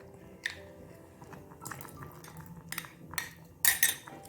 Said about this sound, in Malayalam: നന്നായി ഇളക്കി കൊടുക്കുക അതിങ്ങനെ കുറുകി വരും